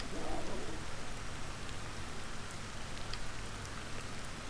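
Steady rain falls in the Ancestors video game as a dense, even hiss of drops that continues unbroken throughout, with no voices.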